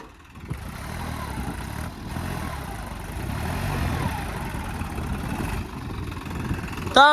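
A tractor engine runs on a farm, a steady low rumbling idle that rises slightly in the middle, close by, with a brief louder burst at the very end.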